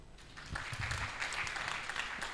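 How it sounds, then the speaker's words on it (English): An audience applauds a chief guest at the launch of an aquaculture census report in Uganda, a fairly quiet, sustained patter of many hands clapping at a slight distance. "Let's give our chief guest a big hand clap."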